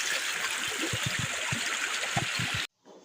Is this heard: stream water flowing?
yes